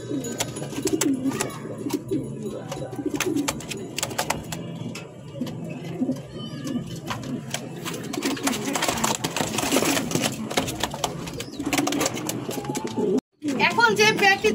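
Sirazi Lahori pigeons coo continuously up close, their low warbling calls mixed with wing flutters and shuffling, while someone talks over them throughout.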